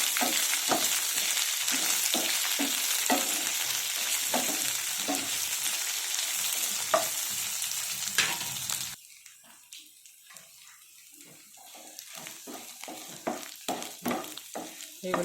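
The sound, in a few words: onion pieces and green chillies frying in pan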